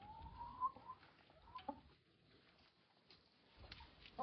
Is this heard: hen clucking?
yes